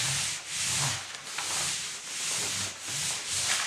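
Paper rubbed by hand over inked bubble wrap to make a print, a steady close scratchy rubbing in repeated back-and-forth strokes with no talking.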